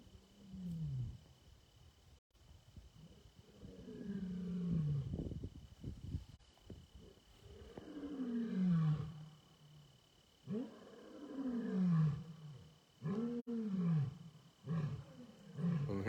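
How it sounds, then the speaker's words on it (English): Big cats roar at a wildcat sanctuary: a lion's deep, repeated calls sound close and loud, descending in a rhythmic series, with a second animal joining in later. "being able to sing lion songs just like their wild counterparts would be doing"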